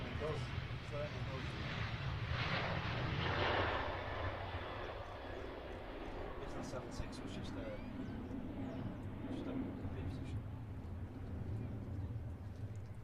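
An airliner departs Manchester Airport, its engines a broad, steady roar spread across the whole stretch. The roar swells slightly early on and stays continuous, with distant outdoor noise and a few faint high chirps.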